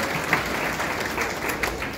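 Dense, steady applause rises from a crowd at a BJP political rally in Mandsaur, a continuous clatter of many hands, loud and close.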